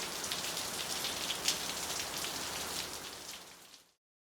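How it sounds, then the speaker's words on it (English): Hard rain falling steadily, a dense hiss of drops on surfaces at moderate volume, continuous and alone before cutting off abruptly. "Very hard rain began to fall."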